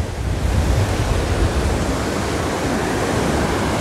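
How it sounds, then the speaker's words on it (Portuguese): Ocean surf rolls onto a sandy beach at Praia do Porto de Nassau on the southern Pernambuco coast, beside a coconut grove, at lower tide: a steady, close, broadband wash of breaking waves with no voices. "As ondas aqui são um pouquinho mais altas"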